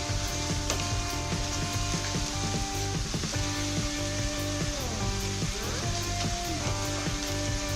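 Whole garam masala spices sizzle and crackle in hot oil for a mutton achar biryani, a dense, steady frying hiss with no talking over it.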